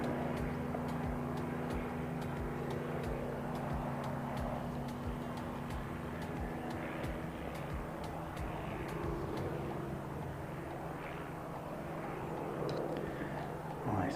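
A jet aircraft passes overhead at a plane-spotting event on an ANZAC weekend, a broad, rumbling engine roar that holds steady and fairly distant over the whole stretch, with no talking.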